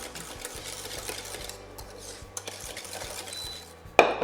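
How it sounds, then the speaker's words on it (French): Pastry cream being whisked in a saucepan as it cooks, a soft steady stirring swish with faint scraping against the pan and a sharper metallic clink at the end. "je vais cuire la crème en remuant avec le fouet"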